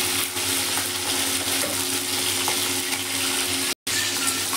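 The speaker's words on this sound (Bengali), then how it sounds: "তার জন্য আমি অল্প অল্প করে ভাজছি" Small batches of crab pieces fry in hot oil in a pan, giving a steady, close sizzle that runs throughout with a brief dropout near the end and no voices.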